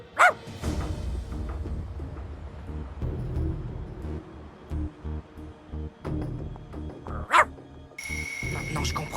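A cartoon dog barks in a few short, loud bursts at the start and again near the end, with quieter yips and movement sounds between them.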